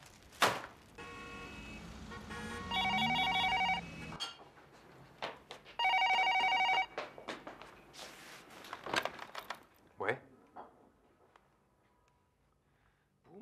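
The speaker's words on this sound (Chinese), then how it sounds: "谁来电话了？" A telephone rings in two loud, repeated electronic bursts indoors at home, with scattered knocks and movement noises between and after the rings.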